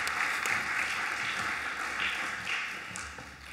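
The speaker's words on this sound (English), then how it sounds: "a round of applause" A school valedictory assembly audience gives a round of applause, a moderate crowd clapping steadily for several seconds before gradually thinning and fading.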